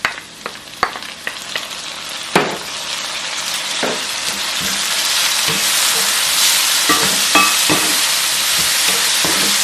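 Tomatoes hit a hot pan for Indian stuffed peppers (bharwa shimla mirch) with ground beef and potato, starting with a few sharp clatters before a dense, steady sizzle builds louder and fills the rest.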